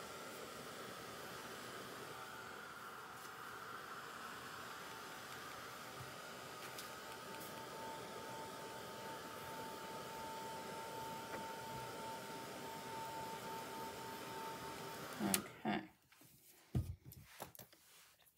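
A hair dryer blows on a wet painting during a winter-scene painting lesson, giving a steady close whirring hum that runs unbroken for about fifteen seconds, then clicks off into a few handling knocks.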